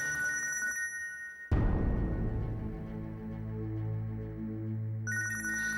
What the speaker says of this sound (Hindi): घर से फोन आया।